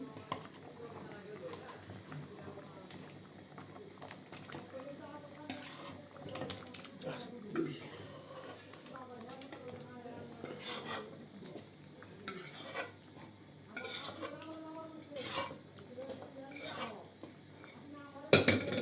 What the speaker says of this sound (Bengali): এখন আমি এখানে সুন্দর করে একটু আলতো হাতে নাড়াচাড়া করে দিচ্ছি।